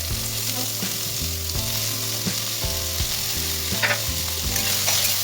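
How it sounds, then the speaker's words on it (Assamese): Capsicum, carrot, cabbage, onion, ginger and garlic fry in a pan with a loud, continuous sizzle, broken by regular scraping and stirring strokes, close up and with no talking. "এয়া ভেজিটেবল কেপচিকাম গাজৰ বন্ধাকবি পিঁয়াজ এনেকৈ ভাজি ল'লোঁ"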